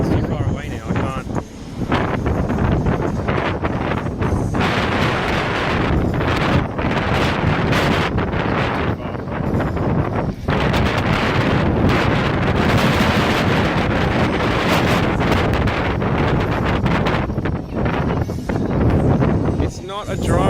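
Strong wind buffets the microphone aboard a ship on the South Pacific Ocean, a loud, constant roaring rush with gusts that swell and ease throughout, with faint voices underneath.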